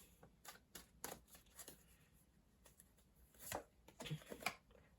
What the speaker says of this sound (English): I did shuffle these really well before the reading, so I'm just going to give them a quick little shuffle